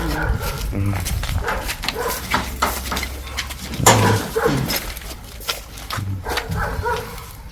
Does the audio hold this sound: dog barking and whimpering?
yes